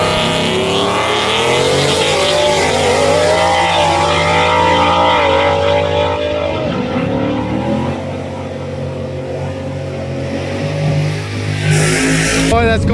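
A drag race car's engine roars steadily and loud with a rough, breaking-up tone at an outlaw drag racing event, the pitch wavering throughout, with faint voices underneath.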